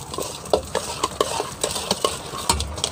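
Spoon scraping and clinking as salt, masala and chili are mixed into chaat at a street stall in Thandol, a quick series of sharp taps and stirs close by, with no talking.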